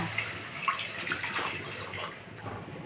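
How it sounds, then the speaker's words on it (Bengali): Milk poured into a pan already holding oil, a steady liquid splash and trickle running close and continuous for about three seconds. "তেলটা ঢেলে নিয়েছি এর মধ্যে দিয়ে দেবো আমি দুধ"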